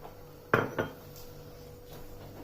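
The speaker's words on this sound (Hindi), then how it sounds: "इस पैन के नीचे तवा रख देना है, मोटा सा तवा" A thick metal griddle set down under a pan on a home stove during biryani cooking, giving one sharp metallic clank and then a softer second knock. The two impacts sit close together against a quiet kitchen background.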